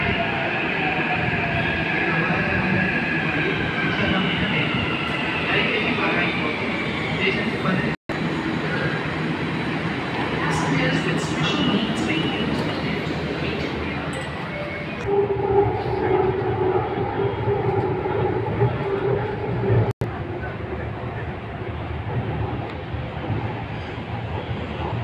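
Inside a Hyderabad metro carriage, a continuous rumble and rolling rail noise fills the space throughout, with soft voices and brief interior sounds carrying faintly over it.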